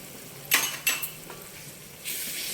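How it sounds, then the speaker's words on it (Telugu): Ginger garlic paste hitting hot oil with browned onions in a pan, giving a few sharp clatters and scrapes followed by a steady bright sizzle that rises and holds near the end. "ఇప్పుడు అల్లం వెల్లుల్లి పేస్ట్ వేద్దాం."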